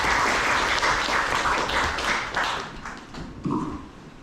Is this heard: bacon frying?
no